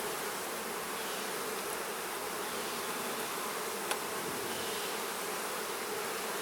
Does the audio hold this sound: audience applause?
no